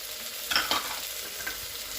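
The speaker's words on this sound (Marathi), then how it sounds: "हे सर्व पदार्थ आपण मंद आचेवरती व्यवस्थित भाजून घेणार आहोत." Dry spices, red chilli powder and mutton masala, roast in a pan over low heat, giving a faint, soft sizzle with a couple of brief stirring scrapes.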